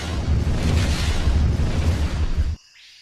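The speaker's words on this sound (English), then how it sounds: "the stormtrooper abruptly dissolved in a brilliant explosion." A loud blast with a deep, rumbling burst sounds in a Star Wars audiobook as a stormtrooper dissolves. It holds for about two and a half seconds, then cuts sharply to near-silence.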